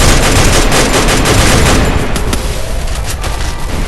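Gunfire in a shooter video game: a dense, loud barrage of rapid shots and booms that runs continuously, easing slightly toward the end, with no talk.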